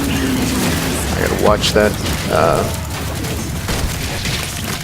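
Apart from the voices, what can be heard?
minions exploding in the video game Heroes of the Storm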